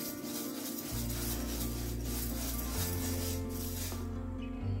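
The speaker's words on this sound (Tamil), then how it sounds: "ஃபர்ஸ்ட் பாசிப்பருப்பு வறுத்துக்கோங்க." Moong dal dry roasting in a pan for kara pongal, a soft continuous rustling sizzle with faint scraping as the lentils are stirred, steady and close throughout.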